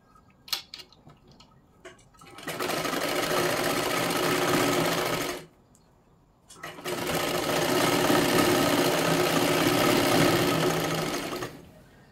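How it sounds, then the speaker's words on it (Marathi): A sewing machine stitches a sleeve onto a katori blouse in two steady, whirring runs of about three and five seconds, separated by a short pause. A few light clicks of handling the fabric come before the first run, all heard up close. "हे पहा अशा पद्धतीने आपण शिलाई मारून घेतली"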